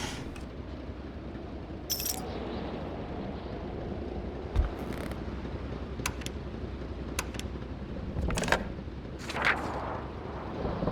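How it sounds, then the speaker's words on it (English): An explosion goes off outside amid a snowstorm, heard as a few scattered sharp booming bursts over a constant low rumbling wind-like bed, moderately distant and fairly quiet. "An explosion suddenly occurred outside."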